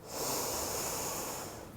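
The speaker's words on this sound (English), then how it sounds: "Take a big breath in through the nose." A slow, deep inhalation drawn in through the nose during a yoga breathing exercise, one steady breathy rush lasting over a second, close and clear with no talking.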